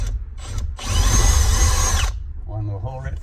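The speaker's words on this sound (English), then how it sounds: "Just gonna drill a hole up in there" A power drill with a 1/8 inch bit whines steadily for about a second, boring through plastic in a 1999 Jeep Cherokee XJ, with brief low voices before and after.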